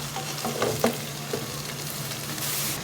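Food frying in a pan is stirred with a utensil, giving steady sizzle and crackle broken by a few scraping clinks, close and fairly loud with no voices.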